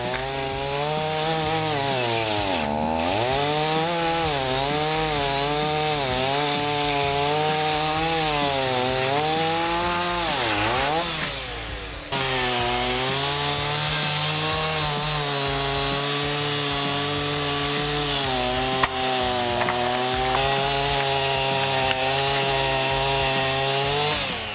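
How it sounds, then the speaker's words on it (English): A chainsaw runs steadily at close range, its engine pitch dipping and rising as it bogs down and recovers while chewing through a stack of cedar siding boards. "you can cut them all at once with a chainsaw if you stack them"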